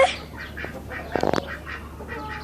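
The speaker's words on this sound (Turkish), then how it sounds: "Arkadaşlar ördeklerimiz var." Ducks quack repeatedly nearby, a cluster of short nasal calls with a brief burst of rapid quacking in the middle.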